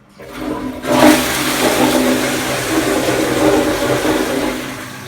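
A toilet flushing in a jungle-style tropical island bathroom, a close, loud rush of water that bursts in after a second of quiet and keeps pouring steadily.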